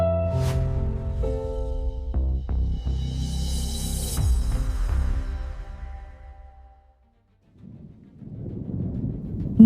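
Thunder rolls through a heavy downpour with ongoing lightning. A deep rumble builds and cracks sharply, then fades to near silence before a softer rushing noise returns.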